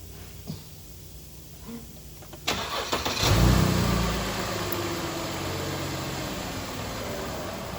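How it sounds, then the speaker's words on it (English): A 2012 Mercedes-Benz C300 engine cranks and starts after a couple of quiet clicks, catching with a loud burst, then settling into a steady, close idle. "And let's start the car."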